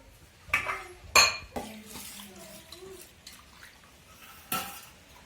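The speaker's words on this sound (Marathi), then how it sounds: "मस्त अशा आपल्या झाडाच्या कैऱ्या आहे बघा ते थोडे धुवून घेऊ." Raw mangoes picked from the family tree are rinsed in water in a kitchen, with a few loud splashes and clatters against a vessel followed by softer swishing and dripping, and brief speech in between.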